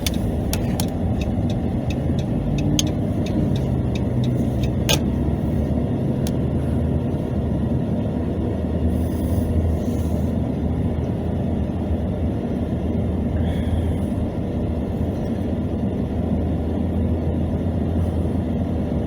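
A car drives down a street in Milner, a very small Georgia town, its engine and tyres giving a steady, close rumble from inside the car, with a few faint ticks early on and no talking.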